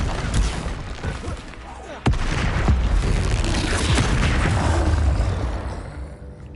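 Spell blasts and explosions from combat in Hogwarts Legacy, a dense run of booming impacts with a sharp loud burst about two seconds in, rumbling on continuously and fading toward the end.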